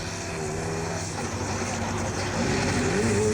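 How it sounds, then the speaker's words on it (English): A turbo diesel rear-wheel-drive buggy competing in the 2002 Dakar rally, its engine droning steadily and close, with the tone climbing toward the end as it accelerates. "Stefan Orad in the turbo diesel buggy"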